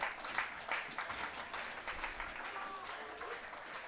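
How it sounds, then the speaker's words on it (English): A home crowd at a baseball game claps steadily in a broad, continuous wash of applause, with faint voices murmuring underneath. "So the home fans clapping"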